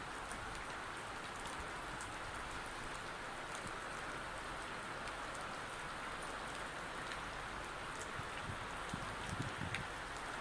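Heavy rain falls steadily on roads in Haryana, a dense, even hiss of drops that lasts throughout without voices.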